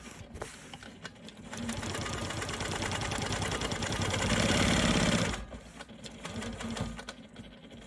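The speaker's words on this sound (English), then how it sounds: "I'm stitching on top of a previous line of stitching." A sewing machine quilting a maple leaf block, stitching over a previous line of stitching, runs in one steady rapid whirring, chattering burst for about four seconds and grows slightly louder before stopping, close and without talk.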